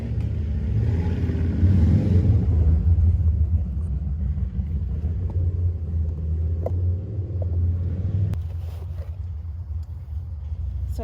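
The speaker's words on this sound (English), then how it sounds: "if you can hear that motorcycle sound" Motorcycle engine rumbling past amid city traffic in a Midtown neighborhood, a loud low drone that swells early then gradually fades with distant traffic behind.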